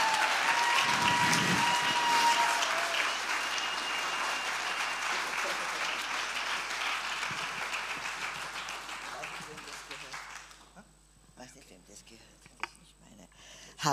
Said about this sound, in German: Einen großen Applaus.